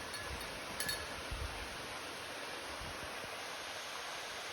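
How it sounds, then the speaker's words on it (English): Waterfall in a forest, a steady faint rushing hiss of falling water heard from a distance, continuous and even throughout, with a couple of soft knocks near the start. "Beautiful waterfall coming off the side of there."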